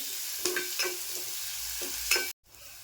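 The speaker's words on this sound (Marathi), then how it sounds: "आता एक मिनिटभर परतून घेते" Taro leaves sautéing in a pan with ginger-garlic paste, giving a steady soft sizzle broken by a few scraping stirs, then cutting off abruptly near the end.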